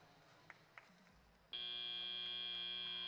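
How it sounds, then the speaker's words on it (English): A loud, steady electronic buzzer ends a 2019 FIRST robotics qualification match, suddenly sounding and holding continuously after a few faint knocks in a quiet room. "There goes the buzzer"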